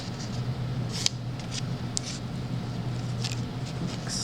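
Scissors snip through green craft paper, making several short, crisp cuts spaced irregularly at close range. The snips stay fairly soft over a low, steady background hum.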